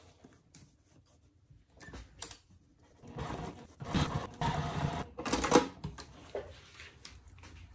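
A sewing machine top stitches along the zipper edge of a fabric placemat pouch, quiet ticks at first, then bursts of rapid mechanical whirring and clatter at close range; no speech.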